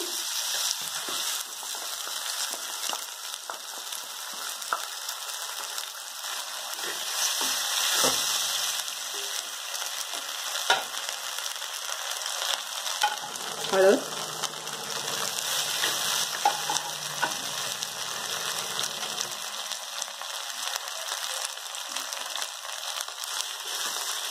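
Chili, garlic and sweet corn paste for sweet corn zunka roasting in a pan, a soft, steady hissing sizzle with occasional faint stirring clicks, fairly quiet throughout.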